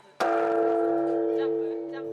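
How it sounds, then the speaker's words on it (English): A large temple bell at Tokudaiji Temple in Tokyo is struck once during a traditional New Year's Eve bell-ringing ceremony, a loud sudden hit followed by a long, steady ringing hum that slowly fades. "with a traditional bell-ringing ceremony"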